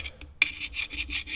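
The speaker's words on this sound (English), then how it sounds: "this thing has been the best gasket scraper I've ever owned." A gasket scraper rasps across a metal engine part during a piston repair on a backhoe, giving several short, close scraping strokes, one sharper scrape standing out, with no talk.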